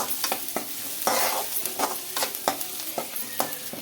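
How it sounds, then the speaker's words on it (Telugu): Finely chopped onions fry in a pan with a bright, steady sizzle, and a spatula scrapes and taps against the metal in repeated strokes, close and clear. "చిన్నగా తరిగిన ఆనియన్స్ ఇవి బాగా ఫ్రై కావాలండి"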